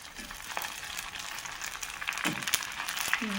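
Readymade puris dropped one by one into hot oil for homemade pani puri, giving a steady close crackling sizzle with brief bubbling bursts throughout.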